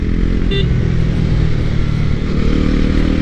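A motorcycle on its first ride runs with a loud, steady engine drone and rumble close by, a brief whine near the start, with no clearly separate blip standing out from the continuous engine noise.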